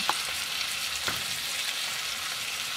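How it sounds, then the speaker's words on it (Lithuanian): Pork with bamboo shoots sizzles steadily in a hot frying pan while a utensil stirs it, with a couple of sharp scraping clicks against the pan. "Viską gerai išmaišysime."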